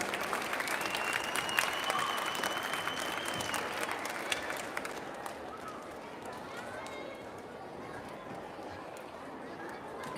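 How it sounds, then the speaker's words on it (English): Audience applauding at a school district arts showcase, a dense wash of clapping that swells loudly for the first few seconds, then eases to a steady, slightly softer patter with faint crowd murmur underneath. "Can we give them a round of applause as they make their way to the stage?"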